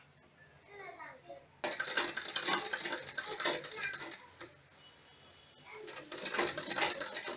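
A sewing machine stitching around the edge of a pinafore, a close mechanical whirring and clicking in bursts with short pauses between runs, with a faint voice in the background.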